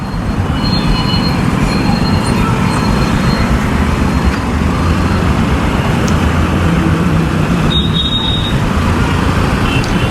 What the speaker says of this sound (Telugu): మెట్రో